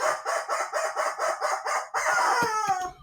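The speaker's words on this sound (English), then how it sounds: "And the rubber chicken says," A rubber chicken is squeezed in a rapid run of about eight rhythmic squawks, followed by a longer drawn-out squeal with a few sputtering honks at the end, close and moderately loud.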